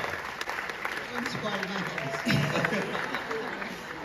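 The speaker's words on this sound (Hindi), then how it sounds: "लेडीज एंड जेंटलमैन जोरदार तालियां हो जाए" Audience clapping at a glamorous stage event, a steady wash of applause mixed with cheering, raised voices and crowd chatter throughout.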